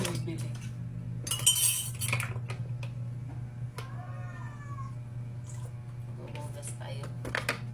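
Dishes and cutlery clink and clatter in a kitchen during washing up, with a louder burst early on and scattered knocks over a steady low hum; a brief cat-like meow rises midway.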